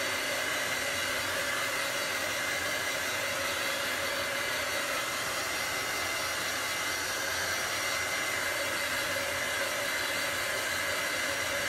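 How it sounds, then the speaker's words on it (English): Heat tool blowing hot air to dry chalk paste on a wood sign, a loud, constant whooshing roar held steady and close the whole time with no pauses or speech. "I'm going to just dry it real quick to make sure that everything is dry"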